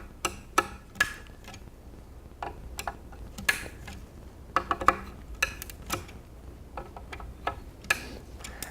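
An Allen key turns the propeller bolts on a Nitro a quarter turn each, making a series of small sharp metallic clicks and ticks in irregular clusters, close and fairly quiet, with no talking.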